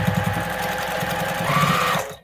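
A sewing machine stitches binding onto a repurposed plate mat at a 1/4 inch seam allowance, a steady close-up motor whir with rapid needle thumping for about two seconds, then cutting off abruptly.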